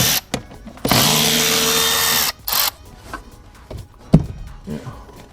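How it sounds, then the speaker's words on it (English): A cordless ratchet spinning a bolt during a heater core install on a Ford Foxbody, buzzing in one loud sustained burst of about a second and a half, then a brief second whir followed by light metallic clinks up close. "You don't have to have the cordless ratchet, but it helps."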